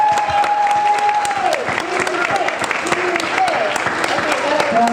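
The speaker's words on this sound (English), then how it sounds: "Everybody clap." Audience at a live Day of the Dead stage show in Chicago claps steadily for about five seconds, dense and continuous, while a sustained tone and other sounds from the stage rise over the applause.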